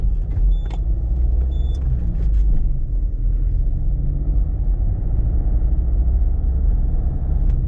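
Peugeot 306 car driving, a steady low engine and road rumble heard from inside the cabin with a couple of faint clicks early on, no talk.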